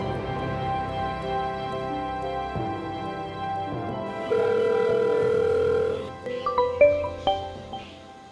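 A telephone ring tone sounds while a call is being placed, steady electronic tones holding for several seconds before breaking into shorter chirping beeps, with no one talking.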